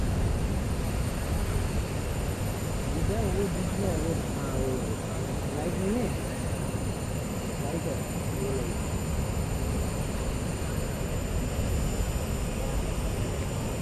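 An Airbus A380 at Delhi Airport sits behind a steady, loud jet-engine drone that holds constant, with someone speaking over it and a crowd murmuring in the background.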